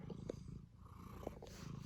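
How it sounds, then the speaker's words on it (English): A cat purrs softly and close by, a faint, low rhythmic rumble with a few brief louder pulses in the quiet. "Look at that kitty."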